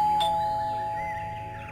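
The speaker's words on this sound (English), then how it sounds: "I'm ringing the doorbell." Doorbell chime in the analog horror video game The Floor Is Breathing, a single electronic ding-dong that rings out clearly and decays slowly over a steady low hum, with no talk over it.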